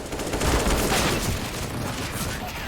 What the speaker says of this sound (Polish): i oni tam idą, bo słyszą strzały.